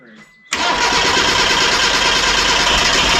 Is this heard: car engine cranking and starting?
yes